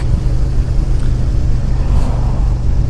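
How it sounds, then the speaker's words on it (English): A de-restricted motorcycle engine roars loudly and continuously under open throttle, mixed with heavy wind rush, with no clear rise or fall in pitch. "She's still the same bike, obviously, until you wind that throttle right back"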